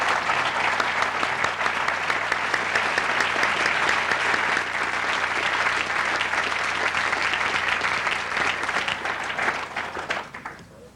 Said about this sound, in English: Please join me in giving a warm hand of applause to our panel this evening.